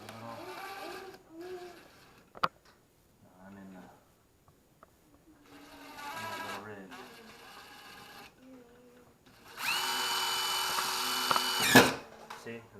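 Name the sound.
power drill drilling a hole in drywall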